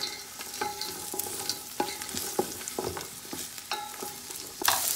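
Frozen green peas go into a pot for turkey fried rice and are stirred, with repeated scraping knocks of a utensil against the pot over a light sizzle, close and steady without talk.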